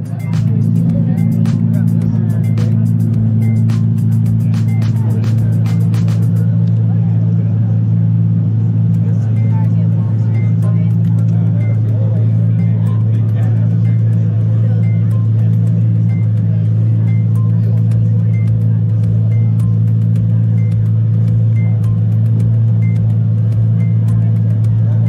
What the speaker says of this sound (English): Lamborghini Aventador enters Pitstop Sunday car show at Bosscat Kitchen.